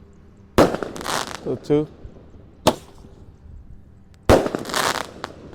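Multi-shot firecrackers set off on the eve of Ramadan make sharp, loud bursts, first a pair in quick succession, then single cracks spaced apart, with a whistling rise between them and a voice counting aloud.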